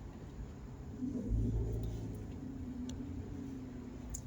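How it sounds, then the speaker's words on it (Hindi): Brand-new Toyota Rush driving on a road: a quiet, steady low engine and road rumble heard from inside, swelling briefly before settling back. "मैं जो गाड़ी लेके जा रहा हूँ, ये गाड़ी टोयोटा कंपनी की है"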